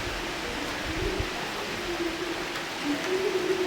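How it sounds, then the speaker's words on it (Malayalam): Heavy rain hisses softly and evenly throughout, with a faint low hum underneath. "കൂടുതൽ നല്ല മഴ പെയ്യുന്നു കേട്ടോ"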